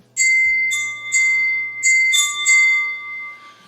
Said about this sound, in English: some sort of object inside with a spring or maybe like another piece of metal that can rock back and forth and strike the bell